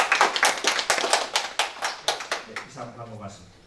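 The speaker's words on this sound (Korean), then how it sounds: "우리 두 분을 위해서 우리 박수로" A church congregation applauds during a Sunday worship service with a run of quick, fairly close hand claps that thin out and fade toward the end, while a voice talks underneath.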